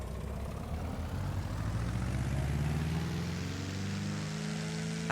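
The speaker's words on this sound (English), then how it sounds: "Let's take a look at the engine sounds on the outside when we hold short here." Simulated Carenado Piper Arrow III single-engine propeller plane in Microsoft Flight Simulator 2020, heard from outside while holding short of the runway: a steady, moderately loud engine drone whose tone slowly climbs and shifts.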